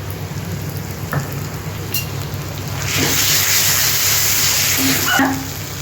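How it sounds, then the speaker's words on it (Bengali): Ginger-garlic paste frying with onions in hot oil for a dim bhujia makes a steady close sizzle that swells louder halfway through, with light stirring clinks and no talking. "এটা দেখা, আদা রসুনের পেস্টটা আমি দিয়ে দিচ্ছি।"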